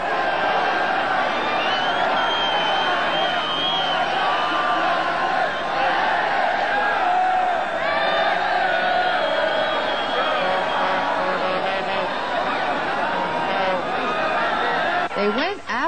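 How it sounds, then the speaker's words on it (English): A dense, steady crowd roar and chatter at the 1986 Stanley Cup parade as people surge forward past fallen barriers, continuous and loud with scattered whoops. "the crowd surged forward."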